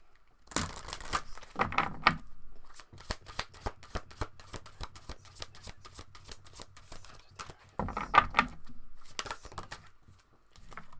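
Playing cards are shuffled close by in repeated crisp bursts of riffling and flicking, with quieter taps between and a busier riffle near the end.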